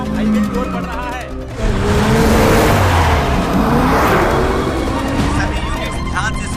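A car engine revs and roars as the vehicle speeds toward a highway in a thriller chase, swelling loud with whirring acceleration and passing motion, while people talk over it.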